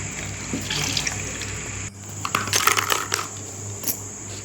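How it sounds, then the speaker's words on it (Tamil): Water splashes and trickles into a mixer grinder jar, with clinks and rattles as it pours, over a steady high hum. "மிக்சி தர கழுவி நம்ம தேவையான அளவு தண்ணி ஊற்றிக்கலாம்"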